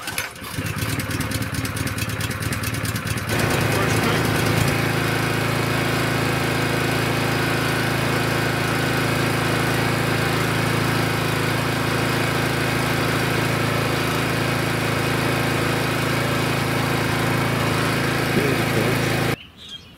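Troy-Bilt front-tine garden tiller with a small gasoline engine, started on choke and held at minimum throttle, giving a loud, steady droning idle that runs unbroken for most of the clip before cutting out at the end.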